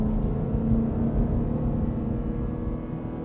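A Ford Shelby Mustang GT500 and a BMW M4 Competition launch in a drag race, heard as a loud, steady low engine rumble and drone that holds for a few seconds without talk.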